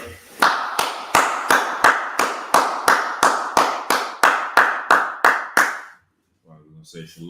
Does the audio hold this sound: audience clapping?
yes